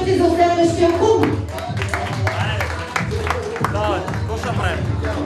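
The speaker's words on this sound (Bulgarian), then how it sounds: "Много ви се моля аплодисменти за следващия кум!" Guests at a Bulgarian wedding clap in rhythm for the next best man, loud and close, mixed with music, crowd chatter and voices.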